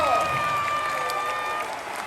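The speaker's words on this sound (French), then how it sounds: "Merci monsieur Edadji, on peut l'applaudir." Theatre audience in Marseille applauding a performer on stage, a steady wash of clapping with some crowd noise, fairly loud and continuous, with faint voices mixed in.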